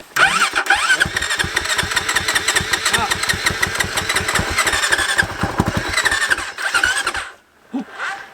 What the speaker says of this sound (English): My bike starts on its own.